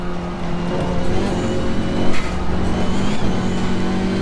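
KTM X-Bow race car engine in the Assetto Corsa Competizione racing game, a steady loud droning engine note with harmonic whine, holding and shifting slightly in pitch throughout, alone without talk.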